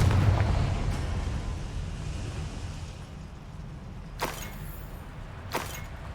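A Confringo blasting spell explodes in the video game Hogwarts Legacy: a heavy, rumbling boom opens, a long roaring decay follows, and then two sharper, brief bursts pop later on, loud and with no talk.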